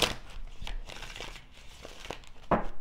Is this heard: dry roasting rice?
no